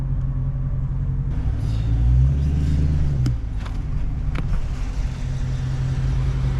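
A Dodge Charger's engine rumbles steadily at a McDonald's drive-thru, a deep low idle that swells briefly into a rev before settling back to a continuous loud rumble.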